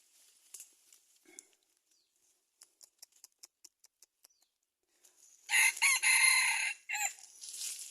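A rooster crows loudly and close by near the end, preceded by a series of faint, evenly spaced clucks or ticks and scattered quieter bird calls.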